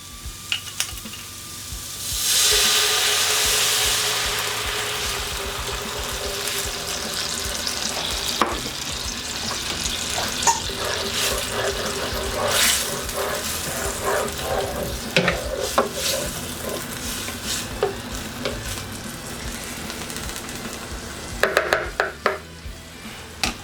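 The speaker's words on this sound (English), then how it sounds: "now we're just gonna take our clam juice and deglaze this pan" Clam juice poured into a hot pan with garlic, bursting into a loud hissing sizzle that settles into steady bubbling with occasional utensil scrapes and clinks.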